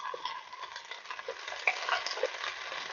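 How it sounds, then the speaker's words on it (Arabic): Dried basil, parsley, thyme and smoked paprika stirred together in a pan, giving a light, continuous scraping rustle with faint sizzling, close and steady without any talk. "نقلبهم مع بعض تقليبه صغيره كده"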